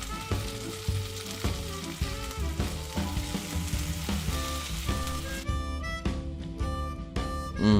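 Tocino, a cured Philippine pork, frying and charring in a pan gives a steady crackling sizzle under prominent tonal background music, with a brief louder flare near the end.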